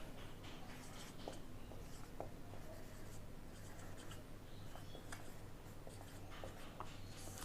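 Marker or chalk writing on a board during a vector lecture, a steady stream of faint scratchy strokes over low room hum, with no talking.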